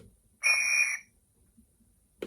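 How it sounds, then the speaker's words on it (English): A model train sound decoder plays one short, shrill guard's whistle blast lasting about half a second, clear and alone, followed by silence and a faint click. "Function 13 is the guard's whistle."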